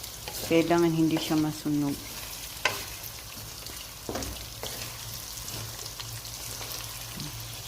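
Chicken sizzles and fries in a pan for chicken pastil while it is stirred, with scraping strokes against the pan at intervals. A person speaks briefly near the start, and a steady sizzle continues underneath.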